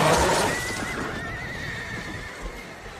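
A horse whinnies loudly in a battle scene from Portuguese history, its shrill, wavering neigh running for most of the stretch over a dense clatter of hooves and commotion that fades slightly toward the end.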